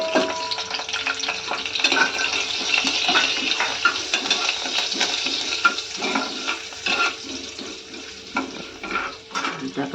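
Mustard seeds and asafoetida sizzling in hot oil with curry leaves in a home kitchen, a loud close crackling hiss with popping and occasional stirring scrapes, fading somewhat toward the end.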